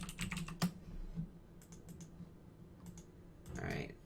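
Light typing on a computer keyboard, a few scattered bursts of quiet key clicks separated by pauses, close and soft with no talking.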